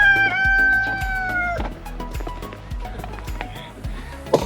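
Chickens and a rooster in a farm chicken area: a rooster crows loudly up close at the start, then hens cluck repeatedly and rhythmically at moderate volume.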